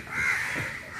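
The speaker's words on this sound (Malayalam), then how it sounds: "നിറയെ പക്ഷികളാണ്, പക്ഷെ കാക്കകളാണ് മാത്രം." A crow caws once, loud and drawn out, from a boat passing through the mangrove forest of a bird sanctuary.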